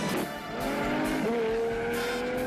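A stunt car used for skid scenes in a TV series shoot, its engine revving loudly as the tires squeal in a rising, sustained screech.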